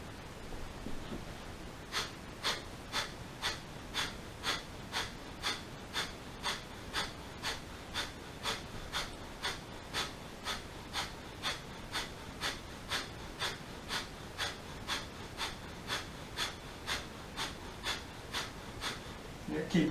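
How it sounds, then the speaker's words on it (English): Rapid, rhythmic breath of fire from kundalini yoga practice, sharp nasal exhales pulsing steadily about twice a second for most of the clip, close and clear, with a quieter start before the rhythm begins. "really power it up with the breath of fire"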